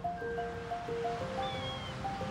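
Waves wash along the Wadden Sea coast as a soft, steady surf hiss, faint and distant, with high piping bird calls sounding repeatedly over it.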